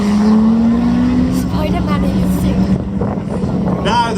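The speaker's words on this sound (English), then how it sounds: "Now the beautiful Ferrari 296 GT." Ferrari 296 GTB supercar accelerating up a hill climb course, a loud steady engine drone rising in pitch before easing, while crowd noise and voices carry faintly underneath.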